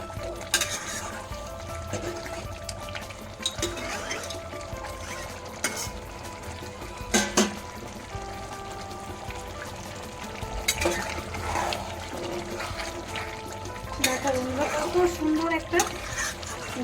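Dhaba-style chicken kosha stirred and fried in its own juices and spices in a pan, with a steady sizzle throughout and repeated scraping stir strokes, some louder clatters against the pan, close and clear.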